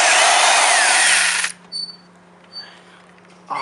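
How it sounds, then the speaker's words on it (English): A power drill bores a hole in a Honda Ruckus scooter while its turn signals are being relocated, with a loud, close high whine for about a second and a half, then small knocks and a brief restart of the drill. "I will measure this hole so I can drill the next one."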